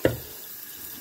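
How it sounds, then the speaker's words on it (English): Tap water running into the tank of a Syvio bedroom humidifier, a close, steady splashing trickle that starts with a brief louder gush. "Then you can add water in here."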